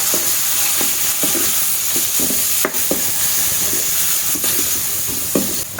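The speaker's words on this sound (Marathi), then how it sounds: "आता आपण हे सर्व व्यवस्थित मिक्स करून घ्यायचं" A spoon stirs an onion and tomato vegetable mixture in a frying pan for a kohlrabi sabzi, with steady scraping strokes over a continuous close sizzle and no talking.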